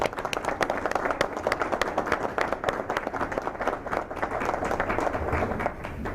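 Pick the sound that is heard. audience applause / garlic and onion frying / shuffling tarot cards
audience applause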